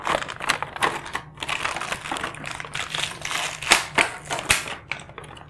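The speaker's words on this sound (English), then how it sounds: "I'm going to unwrap the Star Wars kit" Star Wars Rebels toy kit being unwrapped by hand, a steady run of close crinkling, tearing and tapping plastic packaging sounds with uneven sharp clicks and rustles, no talk.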